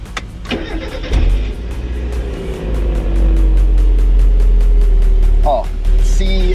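A 1991 Mazda Miata engine turns over and settles into a loud, steady idle close by, with a few brief mechanical clicks and a short squeal near the end.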